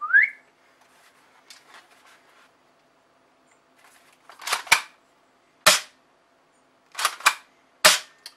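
Airsoft pump-action shotgun firing BBs: a high whistle-like cycling noise at the start, then a few faint mechanical clicks, followed by five or six sharp, close snaps in loose pairs, each loud and isolated against silence.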